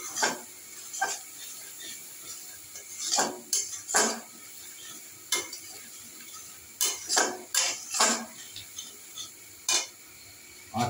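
A spoon scrapes and taps repeatedly against a pan while turmeric and chilli powder fry, sharp irregular metallic clinks over a faint low sizzle, with no talking.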